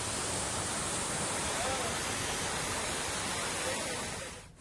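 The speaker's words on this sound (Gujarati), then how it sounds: "કચ્છનો પ્રખ્યાત પાલરધુનો ધોધ 16 કળાએ ખીલી ઉઠ્યો છે" The Palardhuna waterfall in Kutch flows hard in the rainy season, a dense, constant roar of rushing water that fills the scene at steady volume, then fades out at the end.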